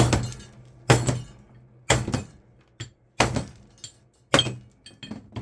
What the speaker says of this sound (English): Freaking love making a mess. It's what's fun. Smashing stuff.